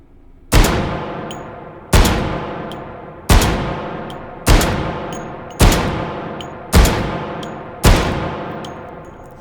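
Seven heavy pistol shots from a Desert Eagle firing .50 AE rounds in the VR game Hot Dogs, Horseshoes and Hand Grenades, evenly spaced about 1.3 seconds apart, each a loud sharp crack with a ringing decay.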